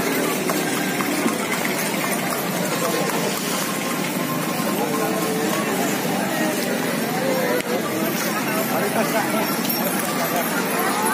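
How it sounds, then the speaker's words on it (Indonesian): Horse hooves clip-clop along a busy street in Malioboro, Yogyakarta, blended into dense, steady crowd and traffic noise, with voices talking throughout. "Tuh kuda, tuh kuda tuh."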